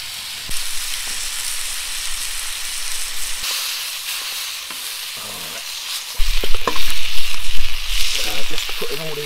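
Vegetables boil in a pot over a camp stove in a cold forest, giving a steady hiss and sizzle with bubbling that grows louder partway through and is heard close up.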